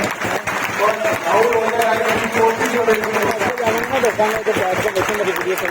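An event audience at Jinnah Convention Center in Islamabad bursts into loud, sustained applause, dense clapping from a large crowd filling the hall with steady rattling that stays strong throughout.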